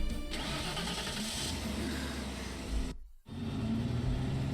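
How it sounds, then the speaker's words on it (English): A truck engine in a video game turns over and starts, then runs at a steady mid-pitched drone as the truck drives off, with a brief cut to near silence partway through before the engine noise returns. "the engine starts and the truck drives off"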